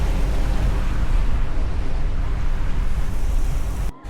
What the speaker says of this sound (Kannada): ಬೋಟ್ ಓಡಿಸ್ತಾ ಇದ್ದಾರೆ